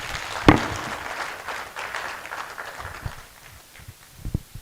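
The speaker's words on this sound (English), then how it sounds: "Another round of applause as Professor Usman Ali will step down the podium" Applause from an audience at a health week event in Katsina State as a professor leaves the podium: a dense patter of clapping for about three seconds that thins and fades, ending in a few scattered claps.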